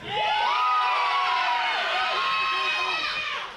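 Pro wrestling arena crowd cheering and shouting loudly, a dense, sustained roar of many voices with whoops rising and falling throughout.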